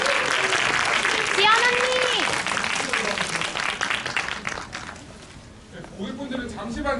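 An audience applauds after a film screening talk for the director, actors and music director, a broad clapping wash that gradually fades while a voice speaks over it near the end.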